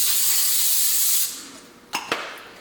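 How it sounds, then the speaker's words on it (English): Coconut oil cooking spray is misted over potatoes in a pan, a bright continuous hiss lasting just over a second. Two quick, sharp clicks follow in the quiet afterward. "So I'll get my coconut oil, which is my favorite to cook stuff in, and spray it all over it."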